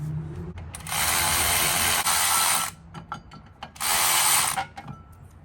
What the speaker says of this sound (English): I'll pop this guy off and use my electric ratchet